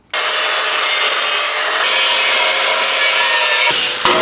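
A power tool cuts through the steel corner of a truck cab mount, giving a loud, steady, close grinding-saw whine for about four seconds before stopping abruptly.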